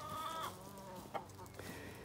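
Hens in a backyard pen cluck and chatter in short overlapping calls, close and moderately loud, with a brief sharper squawk midway and faint farmyard noise behind.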